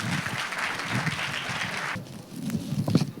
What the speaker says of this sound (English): Can we have a huge round of applause for Mayank sir?